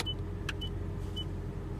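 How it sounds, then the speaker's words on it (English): A 2016 Toyota Prius C gives three short, faint electronic beeps spaced evenly apart as it enters diagnostic mode, heard over a low steady cabin hum. "you will hear 3 beeps indicating that we are in diagnostic mode"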